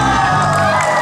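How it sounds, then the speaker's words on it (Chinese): A crowd at an outdoor summer rock music festival screaming and cheering, a loud, dense wash of shrill voices filling the whole short burst. "通常无乐不作应该会有一点点的尖叫声。"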